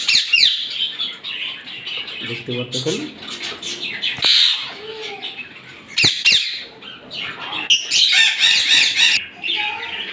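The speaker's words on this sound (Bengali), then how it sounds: "এটা কিন্তু ব্রিডিং পেয়ার পাখি, জায়গা লাগা দেওয়ার কারণে একটু ঝামেলা করতেছে" A breeding pair of caged pet birds squawks and chirps harshly, with bursts of wing flapping, close and loud. A person talks over the birds.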